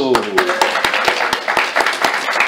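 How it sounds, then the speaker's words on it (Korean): A small group applauds with sharp, distinct hand claps in a fairly steady rhythm, while voices talk over the clapping. "박수"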